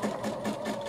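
Sewing machine running steadily as it stitches a silk pillowcase, a close, continuous whirring hum with a quick repeating needle rhythm throughout the short burst, no talking.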